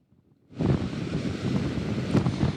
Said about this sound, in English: The wind gusts were up to 40 miles per hour